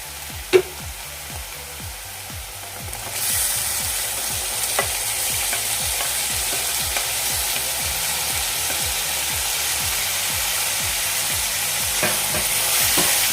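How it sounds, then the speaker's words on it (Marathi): Onion, tomato and kokum sautéing in a pan, a steady bright sizzle under rhythmic scraping stirs that repeat roughly every half second, close and continuous with no voices. "व्यवस्थित मिक्स करूया आपला इथे टॉमॅटोसुद्धा सॉफ्ट होईपर्यंत आपण परतूया"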